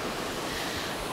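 Ocean waves break and wash over a black sand beach in a steady, loud, continuous rush of surf, with some wind buffeting the microphone and no voices.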